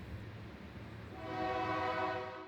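A train rumbles by in Richmond, Indiana as a sustained horn blast rises partway through, somewhat distant and steady, then fades slightly at the end.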